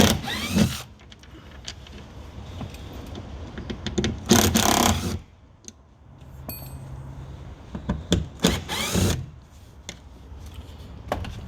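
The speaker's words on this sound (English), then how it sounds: "Next step is to remove the window motor, held in place by 3 T25 Torx bits. Remove those." Three T25 Torx screws being backed out of a window motor inside the door of an Audi A4 B6/B7 convertible, heard as short bursts of close, sharp whirring and ratcheting separated by quieter pauses and small clicks.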